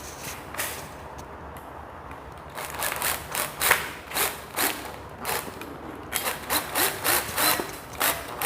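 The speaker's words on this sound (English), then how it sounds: "right here now I'm trimming off the wall plugs just to flush it with the ceiling" A blade cuts and saws through plastic wall plugs to trim them flush with a ceiling while installing a hanging light, giving a rhythmic series of close, scraping strokes that grow steadier toward the end.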